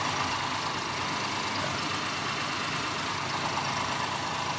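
2017 Acura MDX engine idling under an open hood, a steady even hum with faint vibration, moderately quiet and unchanging throughout.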